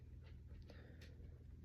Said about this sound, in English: Excuse the dog noises in the background.